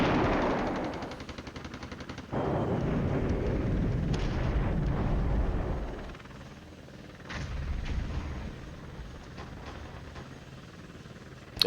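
Mortar fire in the Cold War wargame Flashpoint Campaigns: a dense, continuous rumble of booming explosions and rattling gunfire, loud at first, easing midway, then swelling again with sharp bursts.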